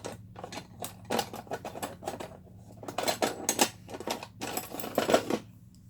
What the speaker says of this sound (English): So we'll go ahead and burnish those.